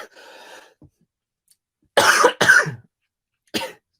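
Three sharp coughs from one person, a close double cough followed by a single one after a short pause, loud and near in a quiet room.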